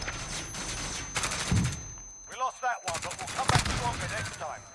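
Video game gunfire crackles in rapid automatic bursts, loud and close, broken by short pauses, while someone talks excitedly over the shooting.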